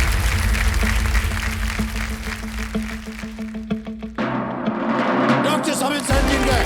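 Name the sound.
studio audience applause on a game show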